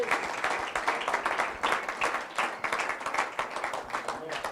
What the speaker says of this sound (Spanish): Un aplauso al Cristo de la gloria